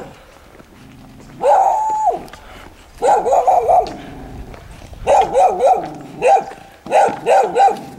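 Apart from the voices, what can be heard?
dogs barking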